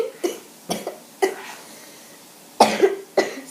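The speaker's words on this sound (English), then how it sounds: "Sorry if I have a cough attack because I am sick." A sick person coughing in a quiet room, five or six short, harsh coughs spaced irregularly over a few seconds, close and moderately loud, with a brief pause between the early and late bursts.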